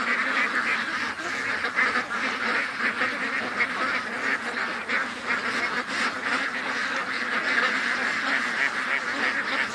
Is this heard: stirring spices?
no